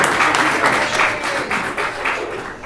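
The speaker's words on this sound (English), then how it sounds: "Another round of applause for all our students" A board of education meeting audience applauds for the students, with steady, moderately loud clapping from a room full of people lasting a few seconds, with a slight swell near the middle.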